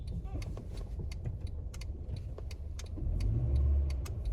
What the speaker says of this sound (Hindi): ये आप देख सकते हो प्रॉपर्ली सेकंड गियर में कार चल रही है 10 की स्पीड पे।